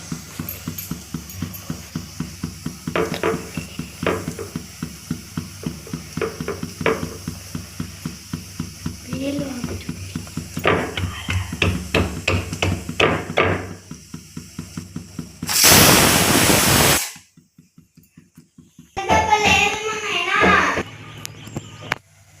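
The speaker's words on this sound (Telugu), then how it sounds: "జొన్న రొట్టె ఇలాగా వేడిగా కాల్ చేసుకోవాలండి, రౌండ్గా తిప్పుకుంటూ" Jowar roti cooking on a hot pan, turned in circles as it cooks, with steady rhythmic ticking and scraping, a loud burst of sizzle near the end, and light clatter after it.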